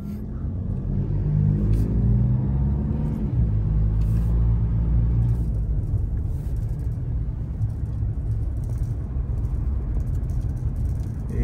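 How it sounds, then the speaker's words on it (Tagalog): Road traffic near Olongapo is heard from inside a moving vehicle as a loud, continuous low rumble of engine and tyres, with the engine's tone shifting early on before settling into a steady drone; no one speaks. "Ayan ang traffic ngayon dito, oh."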